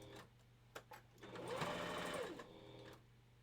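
A domestic sewing machine runs a zigzag stitch through fur pieces, a brief whirring burst that rises and falls, with a couple of clicks before it starts.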